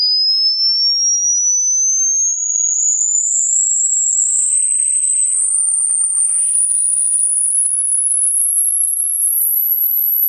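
A pure electronic hearing test tone sweeps steadily upward from high pitch to the very top of the audible range, loud and continuous on its own, with faint chirpy artifacts partway through.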